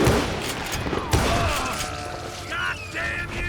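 A rapid volley of gunfire in the Western shooter game Call of Juarez: Gunslinger, with sharp cracks and booms piling on top of each other, then ricochet-like whines and ringing tails, all loud and close.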